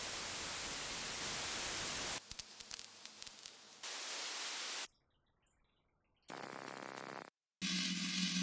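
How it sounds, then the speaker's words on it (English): Bursts of hissing broadband noise alternate with darker, muffled noise and short silences, each segment switching abruptly to the next. "offers various noise samples, from the more traditional white or pink noise"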